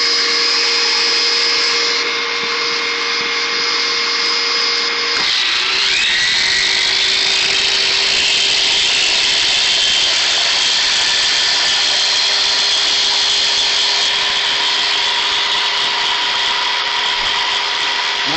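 A 2.5 kilowatt angle grinder runs loud and steady, its motor whine shifting pitch slightly early on and then holding a continuous, even drone with no speech.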